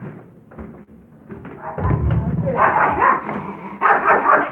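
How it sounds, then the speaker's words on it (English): A dog barks and yips excitedly several times close by, mixed with scuffling and background noise. "You're gonna hear my dog bark like a crazy madman in a second."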